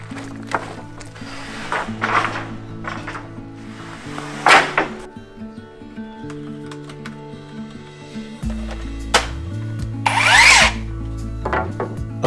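A power drill drives screws through a 4 cm square wooden Nobuchi strip into the bottom edge of rafters, the motor whining in rising and falling runs with wooden rubbing and clunks between them, loud and close.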